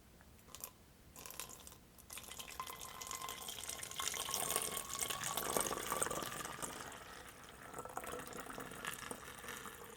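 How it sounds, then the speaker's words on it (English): Tie dye liquid pours through a funnel into a bottle in a quiet close-miked setting, a soft trickling, gurgling flow that swells toward the middle and tapers off, after a few small handling taps. "I'm going to pour it in."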